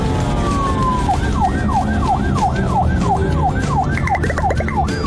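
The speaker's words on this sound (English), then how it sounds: "police car is chasing the sports car" A toy police car's electronic siren whoops in a fast repeating wail during a chase with a toy sports car, loud and close, then shifts to a quicker higher yelp near the end.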